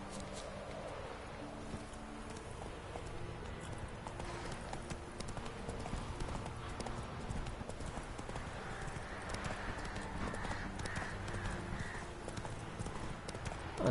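Hooves of the horse Roach clip-clop continuously in The Witcher 3: Wild Hunt, moderately quiet beneath a low ambient game score, with a soft whinny or two.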